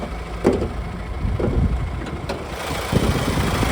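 A 2018 Honda Amaze diesel engine idling close by, a steady low rumble with a faint regular clatter, plus a few sharp clicks or taps over it.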